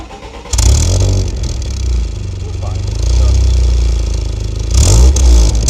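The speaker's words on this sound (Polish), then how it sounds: "żebyś go odpalił i żebyśmy tu widzom pokazali, jak furczy yy, wydech" A BMW 318is with a high-revving engine and shifted rev limiter barks into life and revs, its exhaust rumbling loud and close, with a second rise in revs near the end.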